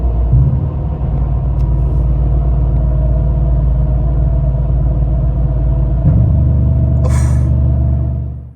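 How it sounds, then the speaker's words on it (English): A pickup truck engine drops through gears on the road, a loud low rumble that dips and changes pitch around each downshift, with wind and road noise and a brief hiss near the end. "Y'all gotta hear the downshifts."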